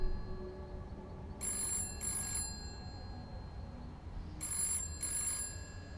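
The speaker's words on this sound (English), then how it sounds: "you actually hear the phone booth next to you" A telephone in a phone booth rings in two double bursts of bright bell trills, the pairs about three seconds apart, over a low ambient rumble in a Call of Cthulhu game scene.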